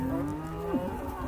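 A single bovine moo, a low sustained call that bends in pitch near the end, comes from beef cattle on a farm in Cornwall, UK. It sounds fairly close and stands alone with no talk.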